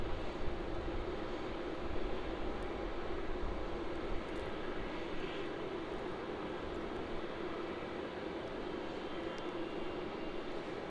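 A Rex Boeing 737 idles at Melbourne Airport awaiting takeoff clearance on runway 16, its engines giving a steady, distant, broadband roar that holds constant throughout.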